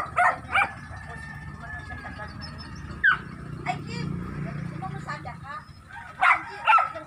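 A dog barks in short bursts at a distance, a few sharp yips spread across the clip over a steady outdoor background hum, by the sea where people are fishing from boats.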